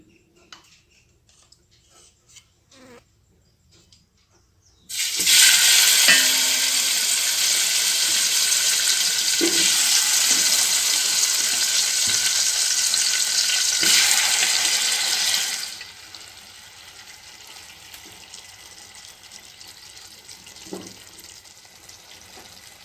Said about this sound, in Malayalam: 2 സ്പൂണ് നെയ്യ് ഒഴിക്കണം.